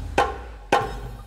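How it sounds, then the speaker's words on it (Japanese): Two sharp, dry strikes of a shime-daiko taiko ensemble sound from a Roland Taiko-1 electronic drum, evenly spaced and loud, each decaying quickly with no effects. "これ普通の太鼓の音ですね。"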